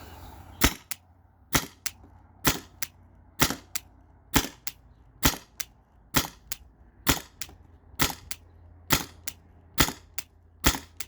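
A Byrna TCR launcher fed by a remote line fires twelve sharp, evenly spaced shots, each a loud crack roughly a second apart against a quiet background.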